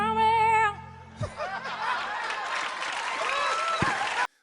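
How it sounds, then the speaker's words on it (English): A studio audience breaks into loud, sustained applause mixed with laughter and chuckles after an impression, following a brief sung note, then cutting off abruptly. "There was thunderous applause, laughter, and Jimmy literally fell back in his chair"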